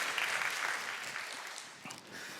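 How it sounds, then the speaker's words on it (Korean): A church congregation applauds to encourage a young worship leader after his first time leading praise, a soft, fairly distant patter of clapping that fades slightly over a couple of seconds. "우리 격려의 박수를 한번 보내주시면 좋을 것 같습니다."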